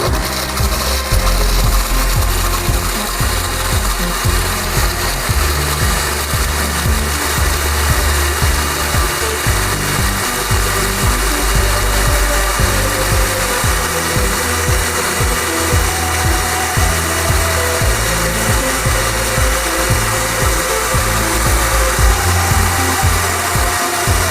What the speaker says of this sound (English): next you're going to blend your mixture together until it's well blended